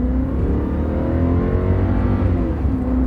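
A loud V8 car engine revs up and accelerates hard from a stop on a drag strip, its rising tone steady and close, with no talking.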